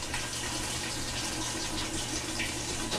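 Hot water rushes steadily into a Kenmore washing machine during a valve test, a continuous close hiss and gush of filling water with no talking.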